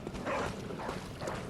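A dog in the dark fantasy game Bloodborne barks and whimpers briefly, a short burst of canine yips heard through moderate game ambience.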